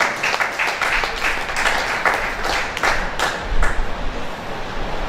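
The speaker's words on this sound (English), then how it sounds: "Please round of applause." A crowd applauds steadily for several seconds, many hands clapping at once in a sustained, fairly loud burst.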